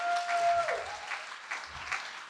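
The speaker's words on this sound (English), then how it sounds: "I'd love you all to give a round of applause" Wedding guests clap steadily at a reception. The applause is full and continuous, with a few brief whoops and voices mixed in.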